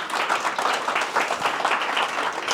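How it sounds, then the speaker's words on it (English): A sold-out audience at a 2024 dyslexia and dyscalculia conference on the Isle of Wight claps together in dense, steady applause that holds an even level for the whole stretch, with no voices standing out. "Give yourselves a round of applause."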